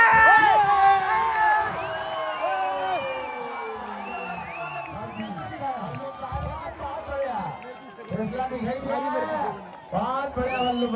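Crowd at a village wrestling match between Ballu Pehelwan of Madhya Pradesh and Sahil Pehelwan of Haryana, cheering and clapping in a loud sustained roar, with an announcer's voice speaking over it throughout.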